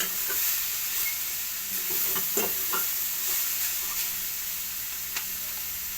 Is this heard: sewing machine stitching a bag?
no